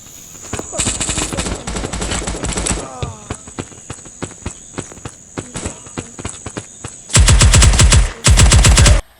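Gunfire from the iPad shooter game Modern Ops: loud rapid machine-gun bursts at the start, a run of evenly spaced single shots through the middle, then two long heavy automatic bursts at the end.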